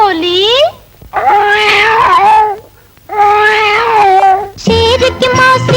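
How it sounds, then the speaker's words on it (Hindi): Meows sung by a cat character in a 1950s Hindi film song, a stretched wailing cat-like call that opens and returns between melodic sung lines over musical accompaniment, loud and close. "बिल्ली बोली"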